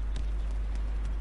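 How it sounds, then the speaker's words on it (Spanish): Footsteps in the shooter game Warface, a few soft, evenly spaced thuds over a constant low hum, sounding somewhat distant and faint. "Escucho pasos."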